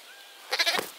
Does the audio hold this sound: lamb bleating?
yes